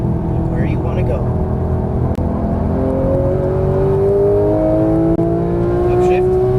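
A Porsche 991 GT3 engine revs hard up through a gear change and back down, loud and close inside the cabin, its pitch rising and dropping with each shift while an instructor's voice comes through beneath the engine noise.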